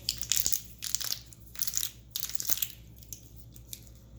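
Valentine sprinkles patter and rattle onto a frosted heart-shaped cake in short gritty bursts, close up, with pauses between shakes and no talk.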